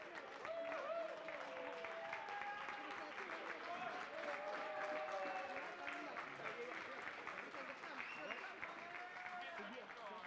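A racetrack crowd cheers and applauds the winning harness race driver, Johan Untersteiner, after the V75 race won by Smile Silvio, with steady distant clapping and cheering and voices mixed in throughout.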